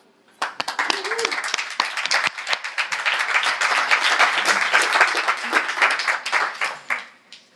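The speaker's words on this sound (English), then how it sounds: "let's give a big round of applause for Alan." A crowd at a GrowthHackers meetup in Dublin breaks into loud, sustained applause, many hands clapping densely for several seconds before it tapers off, with some voices mixed in.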